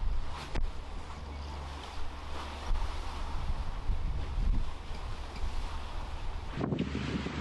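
A sailboat motors on one engine at sea, its low steady drone buried under constant blustery wind rumbling across the microphone, with a brief knock near the end.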